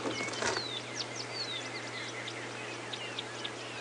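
Woodland kingfisher calls ring out in a morning safari soundscape on a game reserve: descending whistled trills among other birds' chirps over a steady low engine hum from the vehicle, with a brief rustle near the start.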